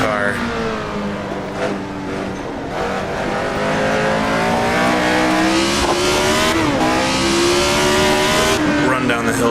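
Tyrrell 002 race car engine in the video game Assetto Corsa, a loud, continuous engine note with rising and falling revs through gear changes, while someone talks over it throughout.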